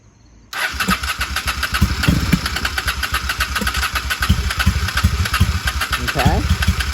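A 1995 Honda Shadow VLX 600 VT600CD motorcycle engine, on choke after long storage, cranks and fires up abruptly, then runs at a loud, close, lumpy idle with uneven pulses, while a person talks over it.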